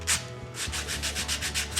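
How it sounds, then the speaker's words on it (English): A hand sanding block rubs across the edges of wooden wall-art pieces, cleaning up splinters in a steady run of about nine quick, close strokes with a brief pause near the start. "with my sanding block handy"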